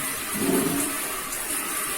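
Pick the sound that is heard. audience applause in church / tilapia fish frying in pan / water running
water running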